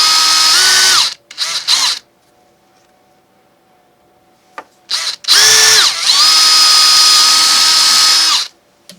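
A power drill bores a new hole in a kayak with loud, close high-pitched whirring bursts: a main run, short blips, a long quiet gap, then another sustained run with pitch shifts.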